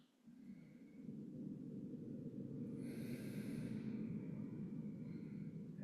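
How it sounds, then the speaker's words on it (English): Slow, audible nasal breathing during a yoga session, one long airy breath in and out through the nose, close and soft, with no talking. "Breathing in through the nose and out through the nose."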